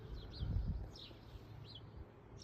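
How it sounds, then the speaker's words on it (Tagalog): Outdoors among gardens and roses in a Swiss town, a bird gives several short, faint, high chirps spaced about half a second apart over quiet background noise, with a brief low rumble near the start. "Chirping of a bird."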